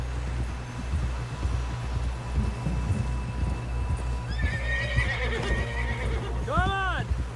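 A horse in Red Dead Redemption 2 clip-clops along in a steady rhythmic gait under game ambience, then lets out a loud, wavering whinny near the end; voices speak over it.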